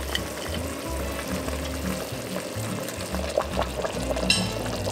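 Food added to a boiling pot while cooking red wine braised short rib, crackling and bubbling in a continuous loud sizzle with uneven bursts, close up and without talking.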